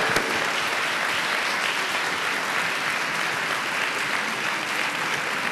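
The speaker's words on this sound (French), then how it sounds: "Veuillez l'applaudir pour moi." Loud, steady applause from a large audience at a beauty pageant fills the whole stretch without letup.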